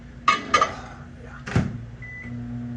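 A couple of sharp clunks like a door shutting, then a short beep and a low, steady hum of a microwave oven starting to run.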